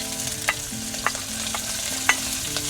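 Aromatics sizzle in hot cooking oil as they are stirred during an outdoor farm cook, with a steady frying hiss and several sharp scraping clicks of the utensil against the pan.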